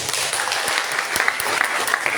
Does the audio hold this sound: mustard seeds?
no